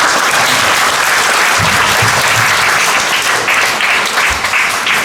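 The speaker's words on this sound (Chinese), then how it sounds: "那我们用最热烈的掌声来欢迎他" Sustained, loud applause from a church seminar audience welcoming a speaker, steady dense clapping filling the hall for about five seconds without a break.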